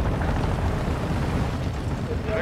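Friendly airstrike explosions in Modern Warfare 3 Warzone, a dense, continuous rumbling roar of blasts, loud and close, with no clear breaks between impacts.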